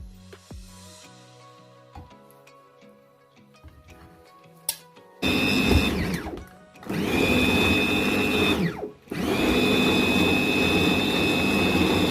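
A kitchen blender pureeing food for homemade mashed potatoes starts up loud after quiet clinks and handling, whirring at high speed with a brief dip and restart, running steadily to the end.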